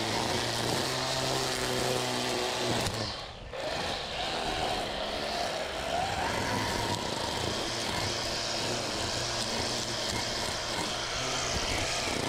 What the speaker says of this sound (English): As you guys can see, I'm not using the full power of the trimmer, right?